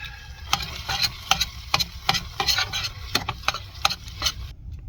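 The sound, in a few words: stirring a dish with Texas Pete hot sauce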